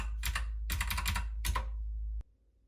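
Rapid bursts of keystrokes typed on a Keychron K2 mechanical keyboard, three clattering flurries close up, ending in a single sharp click before quiet.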